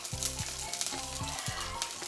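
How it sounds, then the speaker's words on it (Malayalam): Coconut oil sizzles and fries in a hot pan, a close, bright crackling hiss with repeated stirring scrapes, no talk over it. "അപ്പോൾ ചട്ടി ചൂടായിട്ടോ, വെളിച്ചെണ്ണ ഒഴിക്കാം"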